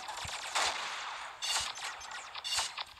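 Sniper rifle shots ring out in Pixel Gun 3D: four or so sharp cracks at irregular intervals over a few seconds, fairly faint against background game noise.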